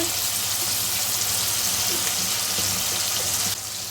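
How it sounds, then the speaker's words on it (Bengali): Capsicum and tomato fry in a pan as ghee goes in, a dense, steady sizzle with bubbling crackle that holds constant before dropping slightly near the end. "ক্যাপসিকাম টমেটোটা দিয়ে দিচ্ছি নুন আমি এক চামচ ঘি দিচ্ছি এর মধ্যে"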